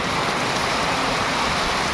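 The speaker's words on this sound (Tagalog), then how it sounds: "lakas po ng ulan" Heavy rain pours down in a dense, continuous hiss, steady and enveloping with no pauses.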